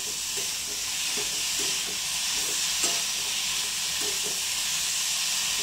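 Fish roe (gaboli) curry cooking in a pan, with a steady sizzling hiss and soft, intermittent scraping of a spoon stirring through it, close by and alone.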